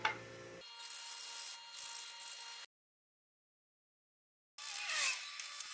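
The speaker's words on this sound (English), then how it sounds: "And more sanding." Hand sanding of small cherry wood shelf parts, a soft, quiet rasping rub repeated in steady strokes, pausing into silence for a couple of seconds before the scratchy sanding resumes.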